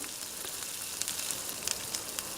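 Masala for pepper chicken cooks in oil in a pan, a soft continuous sizzle with scattered small pops and spits, fairly quiet and with no talking.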